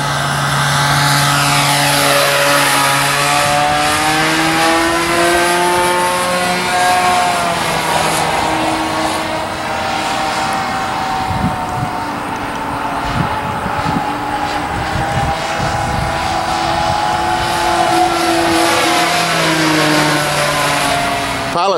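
A 60-size Bigstick RC model airplane flies with a loud, steady propeller drone that rises and falls as it passes, and people talk over it throughout.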